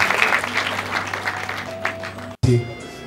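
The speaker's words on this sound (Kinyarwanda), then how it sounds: "n'ibiganza byacu amashyi menshi cyane aturutse ku miryango" Wedding guests from both families clap and cheer together at a Rwandan marriage ceremony, a dense close burst of applause that thins out, breaks off briefly, then resumes.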